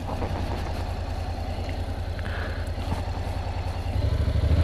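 A 2019 Honda NC750X with DCT thrums with a steady, low, pulsing engine beat close by, the throb swelling slightly louder near the end.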